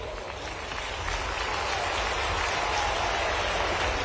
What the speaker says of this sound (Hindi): इस पे जोर से ताली बजाओ बहनों।